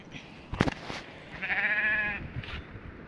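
Sheep bleat once, near and clear, a single wavering call lasting under a second, with a few short knocks and rustles before it and a faint trailing sound after.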